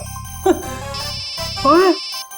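A mobile phone rings with an incoming call during a scene in a TV crime drama, a steady electronic tone lasting over a second beneath voices that talk over it.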